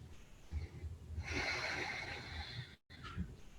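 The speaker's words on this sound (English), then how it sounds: "give yourself a couple of deep breaths here" Deep, slow breathing during a calm guided meditation, a long inhale-exhale swell lasting a couple of seconds, close and soft, followed by a brief pause and another quieter breath, with no talking.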